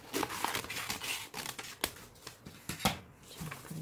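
Scissors snip through kraft paper while gift wrapping, a run of close, dry cutting strokes and papery rustles with a few sharper snaps, steady and moderately loud with no voices.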